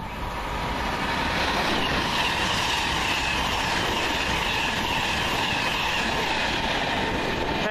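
A London Midland train on the Euston to Birmingham New Street line rushes through Wolverton station, a loud, close, sustained roar of wheels and carriages with faint rhythmic clatter, steady from start to finish.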